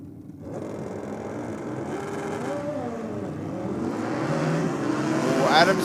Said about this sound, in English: Adams' bike just leaped up into the air almost there on the hit of the throttle